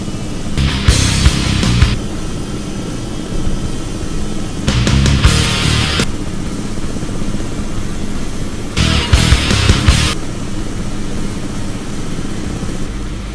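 A Robinson R66 helicopter lands in a flight simulator game, its rotor and turbine drone steady and loud, broken by three short bursts of brighter rushing noise.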